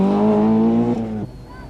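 A Vauxhall Nova rally car at the 1991 Manx International Rally roars past close by, its engine note loud and sustained before dropping away quickly as it passes.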